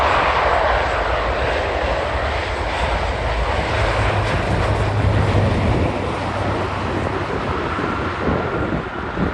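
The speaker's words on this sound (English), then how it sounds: "this plane won't be going to Mexico" A loud, steady roar of an airplane engine passing overhead on a cold, snowy day, broad and rumbling, with some wind buffeting the microphone.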